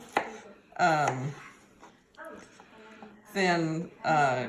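A knife cuts fresh cucumbers into quarters and thick slices for freezer pickles, with a few sharp cuts against a board spaced out under a person talking close by.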